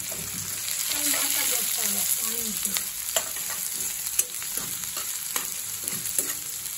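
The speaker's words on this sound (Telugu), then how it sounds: "ఆనియన్స్ మంచిగా ఫ్రై కావాలి" Finely chopped onions fry in a pan for a chicken fry, a close, steady sizzle broken by repeated spoon scrapes and clinks as they are stirred.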